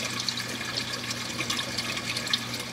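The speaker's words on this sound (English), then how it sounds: "now we are adding water back into the system." Water pours and splashes steadily back into an aquarium system during an automatic HYDROS water change, a soft continuous rush heard alone.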